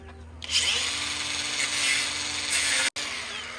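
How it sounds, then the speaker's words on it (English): An angle grinder cutting through hardware cloth wire mesh starts after a brief pause and runs as a loud, steady, close whine that cuts out for a split second near the end before resuming. "what's the easiest thing to use to cut the hardware cloth? And so far, this is what we have seen to be the fastest, this grinder."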